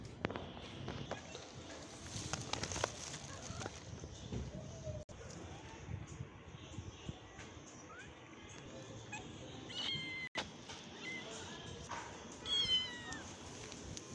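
A mother cat meows several times, the calls coming mostly in the second half, among rustling and footsteps nearby while someone speaks softly at intervals.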